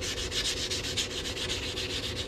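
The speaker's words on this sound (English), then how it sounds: "Gonna sand this edge right here and make that nice and smooth." Steady, close abrasive rubbing as the edge of a 90% silver quarter ring is sanded smooth, a rhythmic scratchy stroke repeating several times a second with no talk.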